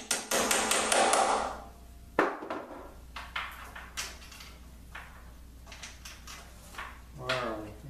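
A hammer taps a bolt into a board while a table saw extension is rebuilt. A quick cluster of light metallic taps comes first, then several sharp, separate knocks spaced about a second apart, close by in a quiet workshop.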